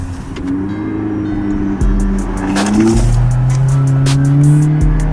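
A Toyota Camry with a straight-piped exhaust revs loud and close in several sharp bursts that rise and fall over a rough, rumbling idle.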